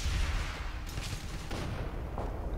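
Gunfire from the video game Uprising 44: The Silent Shadows, a steady rattle of shots with a few sharper bursts running through the whole stretch, moderately loud and without voices.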